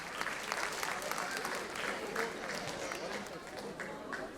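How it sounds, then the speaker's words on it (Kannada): An audience applauds at a Ganeshotsava celebration program, a soft, distant patter of many hands clapping continuously throughout, with talk mixed in. "ರಾಮ್ ಮತ್ತು ಚೈತ್ರ ಅವರಿಗೆ ಇನ್ನೊಂದು ಚಪ್ಪಾಳೆ ಬರಲಿ"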